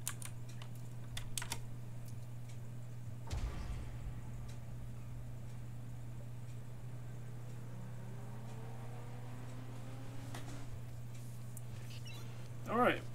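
Keys on a computer keyboard clatter while someone plays The Crew, driving a BMW Z4, as soft, scattered taps over a steady low hum, with a voice talking.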